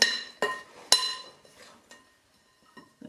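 A spoon clinks against a mixing bowl while stirring rock cake mixture and pressing lumps of muscovado sugar flat, giving three sharp, close taps early on, then softer scraping and faint knocks.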